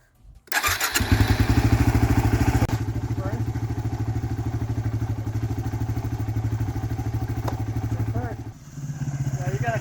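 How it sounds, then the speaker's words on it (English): A Yamaha WR250R motorcycle fitted with a Rekluse EXP clutch starts up and pulls away in gear, its single-cylinder engine thumping loudly and evenly up close, with a brief dip and change in tone near the end. "we need to do 5 first gear starts and then 5 second gear starts"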